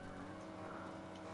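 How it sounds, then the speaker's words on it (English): Car engine and tire noise in the Fortnite video game, a steady continuous drone that holds at moderate level for the whole short stretch with no talk over it. "they're coming in a different car."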